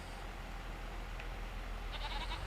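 Sheep bleating in Farming Simulator 25, a steady animal call over continuous ambient farm background noise, with a brief higher-pitched bleat near the end and no talking.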